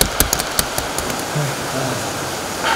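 Steady rain falls outside while indoors, heard as a continuous broadband hiss with a few sharp knocks and bumps near the start.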